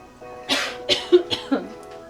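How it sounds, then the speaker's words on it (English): Several short, sharp coughs in a row, close by, spaced irregularly over a couple of seconds with no talking. "Okay, I'm just going to cough."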